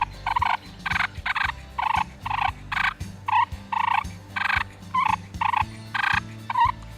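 Push-button turkey call worked hand on, hand off to mimic two birds fighting, giving about a dozen loud, raspy gobbling and purring bursts in quick irregular succession, close and with no voices.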